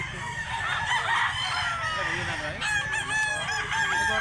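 Black leg gamecock crowing loudly and nearby in a long drawn call, then a second crow follows, with clucking and other fowl noise around it on a farm in Cebu.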